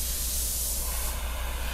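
A lighter is lit and gives off a steady, close hiss of gas flame that runs evenly throughout with no talk over it.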